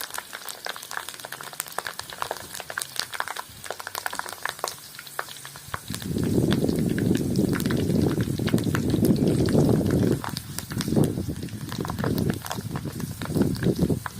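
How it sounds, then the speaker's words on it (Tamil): Curry leaves hiss and bubble as they fry in hot oil for a roadside-style mushroom masala, a steady close sizzle that swells loudly for several seconds and then thins into a few softer bursts. "கருவேப்பிலை பொறிச்சு தனியாக எடுத்து வச்சுக்கலாம்"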